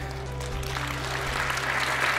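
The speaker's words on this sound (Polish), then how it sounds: "Wielkie brawa, gratulacje." Audience at a business award ceremony claps through the whole short stretch, the applause rising slightly over a steady low hum from the hall's sound system.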